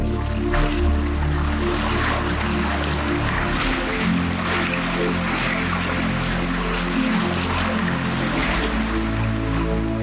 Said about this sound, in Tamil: நதியலை நடந்தது.